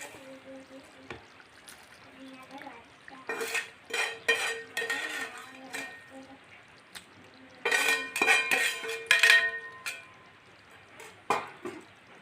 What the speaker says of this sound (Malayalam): എല്ലാം കൂടെ നമുക്ക് നല്ലോണം മിക്സാക്കാം